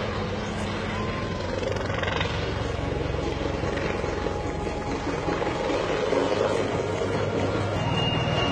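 A helicopter from a display team flies at an air show in Bahrain, its steady loud rotor and engine roar filling the whole stretch without letup.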